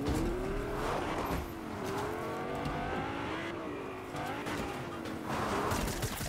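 A car driven in Fortnite during a match, its engine droning steadily with rising and falling pitch as it speeds along, with occasional tire squeal and skids, loud and close throughout.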